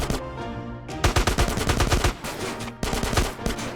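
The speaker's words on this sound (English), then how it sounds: "during the mission, The Green Saber, a shootout takes place underneath the highway while CJ is trying to rescue Sweet" Gunfire in a shootout beneath a highway in GTA San Andreas, with loud, rapid bursts of automatic shots and dense volleys throughout, briefly easing before more shooting resumes.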